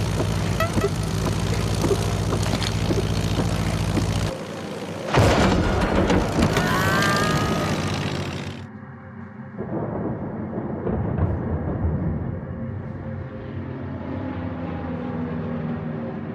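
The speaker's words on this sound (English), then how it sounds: "This is Gadget's plane!" A propeller plane drones loud and close in the Kao the Kangaroo video game, a steady roar under a heavy rumble that suddenly shifts to a thinner, quieter engine hum partway through.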